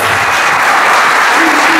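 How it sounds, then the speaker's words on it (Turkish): A crowd at a certificate ceremony for 142 Quran memorizers in Cizre breaks into strong, loud applause, a thick, continuous roar of clapping filling the whole short moment. "Kuvvetli bir alkış alalım değerli konuklarımız."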